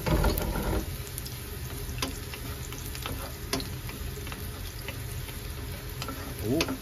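Garlic sizzles steadily in hot oil in a pan alongside ginger, with occasional sharp clicks and scrapes of a utensil stirring, close and constant throughout.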